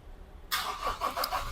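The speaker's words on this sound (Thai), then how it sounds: "เดี๋ยวสตาร์ทเครื่องให้ดูเลขใหม่กันสักหน่อยครับ" A Toyota Fortuner diesel engine cranks and catches abruptly, then settles into a steady rough idle with a few small revs, close by.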